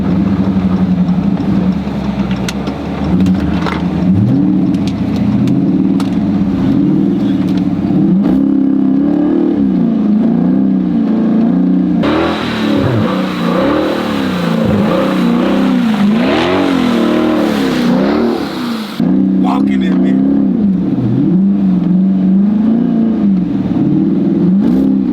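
A Scat Pack 300 car engine revs loud and steady, its pitch rising and falling in repeated swoops as it slides through turns, with a harsher, brighter roar in the middle stretch.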